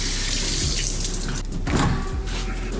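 Tap water runs into a bowl for poaching an egg, a loud continuous gush with shifting splashy texture and a brief change in flow midway, no talking.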